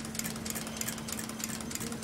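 A sewing machine fitted with a gathering attachment sews ruffles, giving a quiet, fast, even mechanical whirr that runs steadily throughout.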